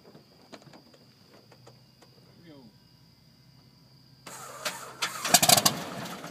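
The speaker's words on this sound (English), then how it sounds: "Now he's priming the engine, and we're looking at that exhaust pipe." A small airplane's piston engine cranks and catches after priming. Quiet outdoor ambience with insect chirps comes first, then the engine bursts into a loud, close, rough roar that builds over the last two seconds.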